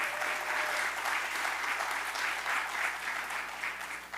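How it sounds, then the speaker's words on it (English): Steady, dense applause from a large church congregation fills the room, sustained throughout before starting to taper slightly at the very end. "I think you got a little bit more applause than I did."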